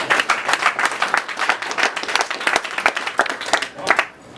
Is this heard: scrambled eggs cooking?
no